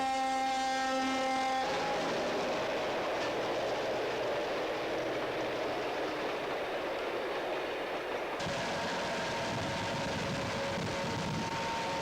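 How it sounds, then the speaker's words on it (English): A train negotiating a sweeping curve near Brownsville, heard as a steady rumbling roll that opens with a sustained horn blast and continues with wheel and wind noise. "we pause at Brownsville to see our train negotiate the sweeping curve and head for Milo."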